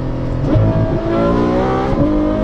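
A Ferrari F12 engine revs up and down, loud and close, with a deep throaty roar and no talking.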